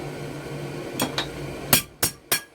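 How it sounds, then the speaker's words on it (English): A blacksmith's hammer strikes hot steel on an anvil while forging a bottle opener, five ringing blows in two loose groups, the last three louder and sharper, close up against a faint background hum. "I don't usually forge with this hammer."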